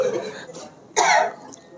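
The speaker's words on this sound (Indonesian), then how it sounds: "Jangan batuk-batuk lagi." Two close coughs from a man during a religious study session, the second louder and rougher, over a noisy room background.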